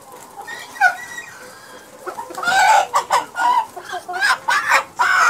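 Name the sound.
rooster clucking on a poultry farm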